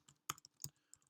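A few quick, soft keystrokes clatter on a computer keyboard nearby, two sharper clicks standing out among the lighter taps in a brief, quiet burst.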